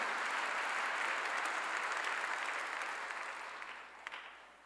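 A church congregation applauds during a sermon, with a full, close wash of clapping that stays steady for about three seconds and then gradually fades, leaving a few scattered claps at the end.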